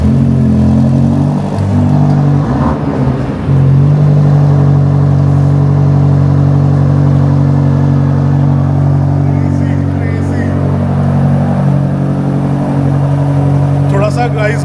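A Range Rover Sport SV V8 engine cranks and catches, then settles into a deep, loud, steady idle rumble close by; people talk faintly over it.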